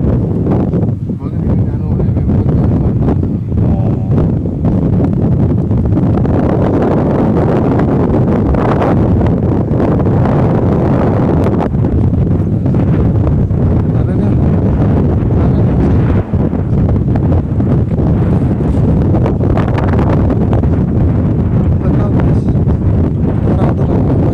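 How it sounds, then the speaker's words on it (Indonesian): Strong wind buffets the microphone outdoors on a cold mountain, a loud, continuous low rumble with gusts rising and falling throughout, and people talking underneath. "Oh angin iya, Pak."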